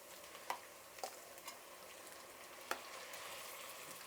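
Chutney paste hits hot tempering in a pan, giving a faint, soft sizzle with a few brief stirring clicks and scrapes scattered through, no voices.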